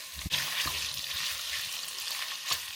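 Smoked sausage frying in a hot pan, with a steady close sizzle and a few sharp clanks and scrapes of stirring against the pan.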